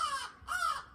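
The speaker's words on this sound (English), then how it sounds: "And that's the raven." A raven caws twice, two drawn-out harsh calls close by, alone with no talk.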